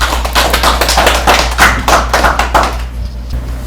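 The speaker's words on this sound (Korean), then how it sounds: "큰 박수로 맞이해 주시기 바랍니다." Applause from an audience at a Korean senior talent-sharing programme results ceremony, welcoming a foundation director, steady close hand clapping for about three seconds that fades out at the end over a low hum.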